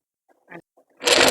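A domestic sewing machine stitching appliqué fabric, with a few short soft needle taps, then a loud, continuous close-up whirring run of stitching that continues to the end.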